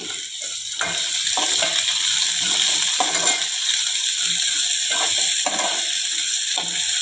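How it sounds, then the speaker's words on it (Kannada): Chopped onion and garlic sizzling steadily in a hot pan, a continuous bright crackle with brief clinks of a utensil scraping or stirring. "ಸೊ ಈರುಳ್ಳಿ ಫ್ರೈ ಆಗಿದೆ ಫ್ರೆಂಡ್ಸ್"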